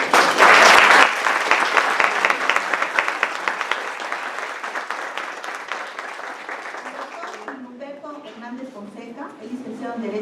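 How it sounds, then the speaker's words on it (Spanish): An audience at a law lecture on human rights and constitutional control applauds to welcome the speakers, loud clapping at first that thins and fades out, followed by a person speaking. "me van a hacer ustedes el favor de recibirlos con un caluroso aplauso"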